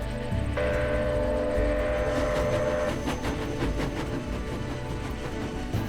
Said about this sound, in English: my grandfather Jim Loft was still a boy, he hurried, as usual, to watch the Montreal train go by on the way to Buffalo, New York.